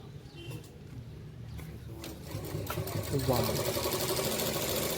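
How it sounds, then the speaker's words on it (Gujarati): A tailor's sewing machine stitches in a small shop, a steady whirring hum rising in the second half beneath background noise, with people talking faintly nearby. "આ તમે જે સિલાઈ મશીન કરો છો એ કેટલા રૂપિયાનું છે"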